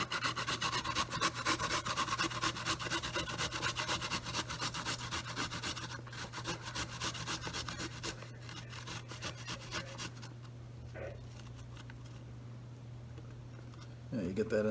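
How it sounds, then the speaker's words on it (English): Garlic and ginger grated on a kitchen grater for General Tso chicken, a steady close rasping scrape running continuously, easing off toward the end under a low steady hum, with someone speaking briefly. "we're going to go ahead and grate the garlic and the ginger"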